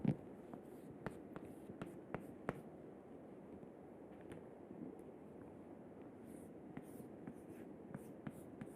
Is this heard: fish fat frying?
no